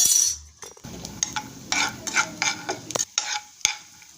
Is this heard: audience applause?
no